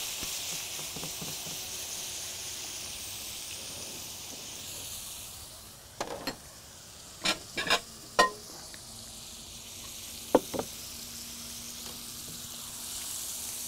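Steady hissing sizzle of shrimp frying in a hot pan after lemon juice is added, with several sharp clinks and scrapes of a utensil against the pan partway through.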